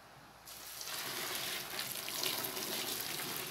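Water pours in a steady rushing stream into a container, two litres being added for homemade fabric softener, starting abruptly and continuing close and even, with no talking.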